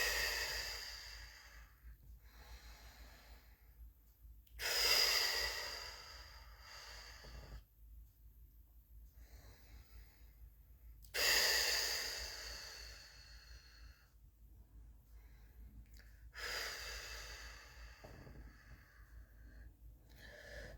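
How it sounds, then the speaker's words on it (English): Slow, deliberate breaths drawn in through the nose and let out through the mouth, three long airy exhales spaced several seconds apart with quiet gaps, close and soft. "Let's take a breath in through our nose,"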